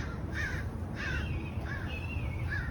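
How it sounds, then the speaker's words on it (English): Several crows cawing outdoors near a Chinese elm tree, agitated by a hawk; four or five harsh, hoarse calls repeat steadily at mid distance over a low background rumble. "Hi, crows."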